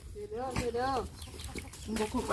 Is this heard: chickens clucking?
yes